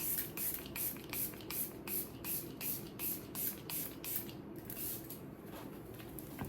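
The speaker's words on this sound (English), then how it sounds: "I would just spray everywhere but my eyes because I don't want my eyes to crease" Setting spray mists onto a face in about a dozen quick, evenly spaced close pumps, each a short soft hiss, in a quiet room.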